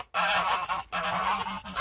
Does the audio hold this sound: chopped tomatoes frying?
no